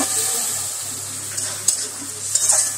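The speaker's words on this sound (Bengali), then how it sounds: "এবার আমি পনিরের টুকরোগুলো দিয়ে দিচ্ছি, ভালো করে নাড়িয়ে নেব।" Paneer pieces stirred into spice paste frying in oil for curd paneer, a continuous close sizzle with a few spatula scrapes and clinks, no talking.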